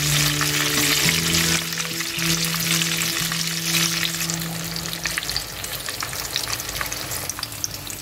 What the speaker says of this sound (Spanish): Tengo aquí las dos últimas albóndigas para freír